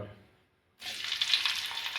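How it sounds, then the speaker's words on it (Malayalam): Garlic and curry leaves dropped into hot oil for a Kerala-style mixture snack: a brief quiet pause, then a sudden bright, crackling sizzle that surges and holds loud and close. "നമുക്ക് വെളുത്തുള്ളിയും കരിയാപ്പിലയും നല്ലപോലെ വറുത്തെടുക്കണം"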